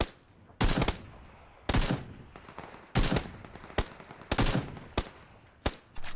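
Gunfire in a shooter video game: about seven sharp, loud bursts and single shots at uneven intervals, some in quick automatic runs, with quiet gaps between them.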